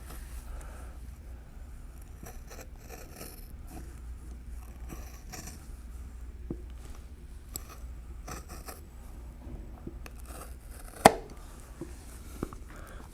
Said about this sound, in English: I prefer to cut a rounded edge with the shears, as you see me doing here.